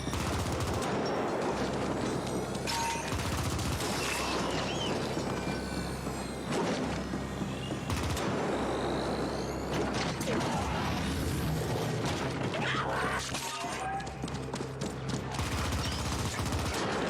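Rapid video-game gunfire with infinite ammo rattles in dense, sustained bursts, mixed with mechanical clanks and crashes, loud and continuous throughout.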